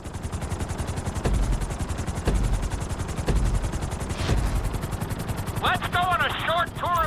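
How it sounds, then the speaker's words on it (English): Helicopter in the video game Grand Theft Auto V, a steady rotor chop and turbine drone at close range with rhythmic low beating, joined near the end by a burst of sharper warbling electronic tones. "we're gonna put you in a helicopter for this lesson"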